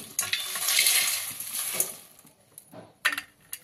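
Nylon sabudana chivda frying in hot oil in a kitchen, a soft sizzle with stirring and a few sharp metallic clinks of a utensil against the pan, fairly close.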